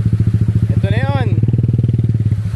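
Motorcycle engine idling steadily and loud with a rapid even thumping, on a mountain trail traverse in Tanay, Rizal; a voice speaks over it midway.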